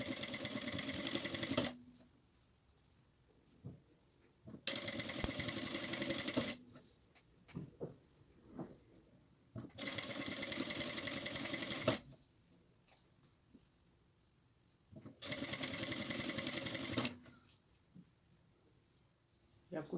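A sewing machine stitches a zipper onto fabric for a backpack, running in four loud bursts of roughly two seconds each. Quieter pauses of fabric handling separate the bursts.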